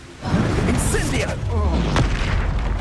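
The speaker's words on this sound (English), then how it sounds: "Incendio!" Incendio fire spell from the Hogwarts Legacy video game bursts with a deep boom and rushing whoosh, a short loud blast layered under a shouted voice.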